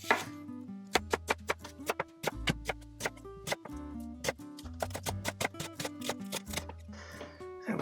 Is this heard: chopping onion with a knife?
yes